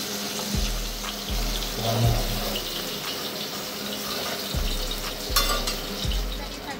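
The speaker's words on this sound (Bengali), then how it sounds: "ছেলের জন্য এক পিস ভেজে দিচ্ছি" A single piece of food sizzling steadily in a frying pan at close range, a constant crackling hiss with periodic low thumps from handling, and no talk.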